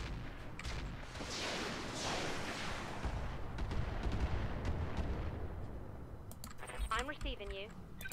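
Heavy gunfire and explosive booms from the tactical shooter game Roguepoint, a dense continuous barrage of shots and blasts with sharp bursts near the end, overlaid with game voice chatter.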